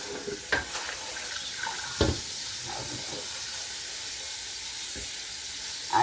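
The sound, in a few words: water running while washing collard greens in a pan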